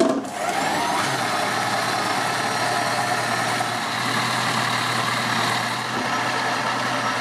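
Electric mixer whipping sugar and eggs for Italian yogurt biscuits, a steady, close motor whine and whirr running continuously with a slight dip midway, alone without talk.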